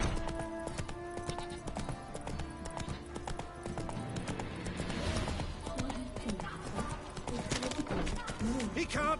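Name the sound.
horse Roach hooves clip-clopping, from The Witcher 3 video game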